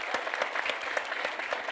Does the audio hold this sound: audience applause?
yes